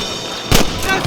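A single sharp gunshot in the Red Dead Redemption western game, a loud close crack with a brief tail, set against background game ambience.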